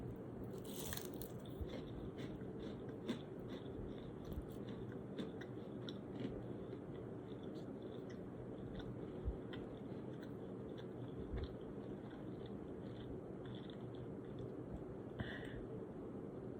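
Someone biting into and chewing home-cooked fried shrimp, heard close but faintly as soft crunches and wet chewing over a low steady background hiss, with no talking.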